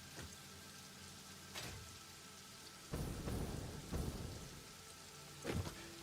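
Steady rain patters down in the factory-building game Satisfactory, a constant hiss with soft rumbles of distant thunder swelling at intervals.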